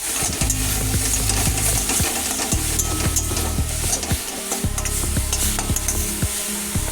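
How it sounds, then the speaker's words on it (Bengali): Ground onion, garlic, ginger paste with coriander, cumin and chilli powder sizzles loudly in a pan alongside fried potatoes, a spoon scraping and stirring it in steady repeated strokes close by. "মশলাগুলো ভালো করে মিশিয়ে নিয়েছি"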